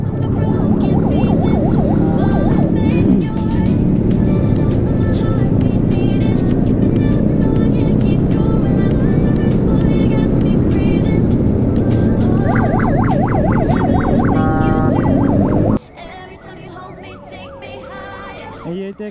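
Wailing emergency sirens from a rescue escort ring out close and loud over rumbling vehicle engines during a group road ride in Lahore, sweeping steadily before cutting off abruptly near the end, leaving quieter traffic noise.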